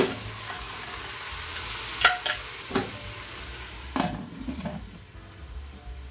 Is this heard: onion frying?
yes